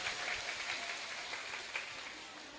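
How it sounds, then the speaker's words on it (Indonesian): An audience at a Quran study gathering in Subang, West Java, applauds in a steady patter of hands that stays faint and fairly distant, fading slightly toward the end. "Tepuk tangan dulu"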